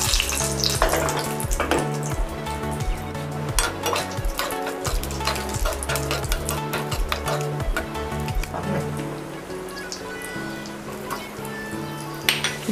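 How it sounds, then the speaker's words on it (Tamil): Cashews fry in hot ghee for a traditional ada pradaman payasam. A continuous, lively crackle sits under frequent clinks and scrapes of a utensil against the pan. "கேஷ்யூ ஃப்ரை பண்ணி எடுத்துக்கலாம்."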